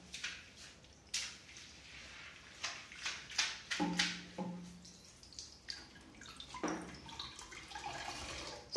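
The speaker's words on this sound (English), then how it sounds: "So you see how the water is dropping here slowly by slowly" Water drips slowly in an African holiday apartment, with a series of distinct, irregular drops and small splashes close by, fairly quiet, and no talking.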